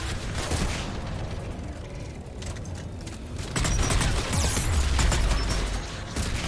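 Turret gunfire in Mass Effect 3, a dense stream of rapid shots and mechanical clatter that swells louder in the second half, close and continuous.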